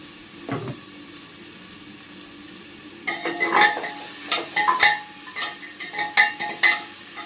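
Onions with salt are stirred in a pan, starting with a quiet scrape and then turning into a run of clattering spoon strokes and scraping over a soft background sizzle, with no voices.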